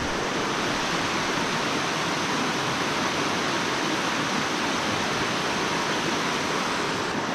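Steady, loud rush of flowing water at Big Creek in winter, a continuous broadband roar without pause or voices.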